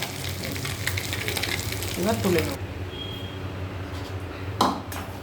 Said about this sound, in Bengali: এবার একই রকমভাবে এগুলোও ভেজে নেব